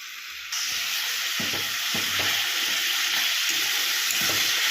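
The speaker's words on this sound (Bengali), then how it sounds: "এবার টমেটো আর পেঁয়াজের পেস্টটা ভালো করে কষিয়ে নেব" Tomato and onion paste frying for mushroom masala, a steady close hiss of sizzling in the pan with soft rhythmic stirring thumps throughout.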